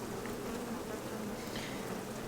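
Honey bees buzz steadily on a brood-filled hive frame, a dense, continuous droning hum close by with no speech over it.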